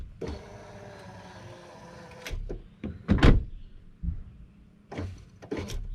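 Motorized running boards on a 2017 Ford Expedition whir as the door opens and closes, with a steady mechanical hum followed by several sharp thumps and clunks nearby, no voices.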